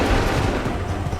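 A musket volley fired on command in Assassin's Creed III: a dense, continuous crackle of gunfire filling the short span, loud and close, with no gaps between shots.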